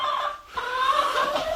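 Hens clucking inside a backyard chicken coop, close, overlapping soft calls and warbles with a brief pause midway before the clucking resumes.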